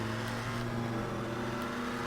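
A car engine drones in GTA 5 Online, a steady loud mechanical hum with a faint rise and fall in pitch, continuous for about two seconds with no talk.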